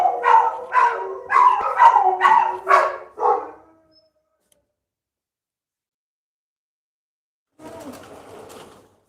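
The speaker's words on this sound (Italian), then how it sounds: "ci stanno i miei cani che stanno facendo un pandemonio" Several domestic dogs barking in a quick burst of about six loud, close barks, then silence, followed by a fainter, rougher stretch of barking a few seconds later.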